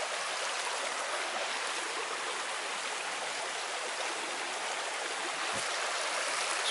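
Steady, full-bodied rush of a river flowing, loud and continuous with no breaks, the broadband water noise unchanging throughout and no voices over it.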